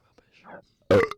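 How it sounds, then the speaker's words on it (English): A single short burp during a casual football podcast chat, loud and close, preceded by faint breathy voice sounds. "There's one for the burp count."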